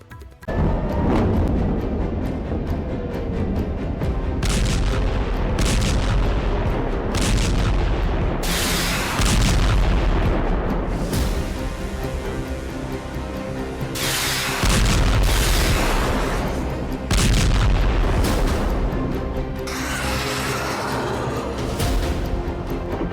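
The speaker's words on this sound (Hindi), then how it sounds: "3D एनिमेशन जिस तरह से अंडरग्राउंड मिसाइल ठिकानों पर हमले किए गए" Heavy booming explosions from an animated depiction of strikes on underground missile sites. Loud blasts and rumbling impacts repeat over a dense, continuous roar.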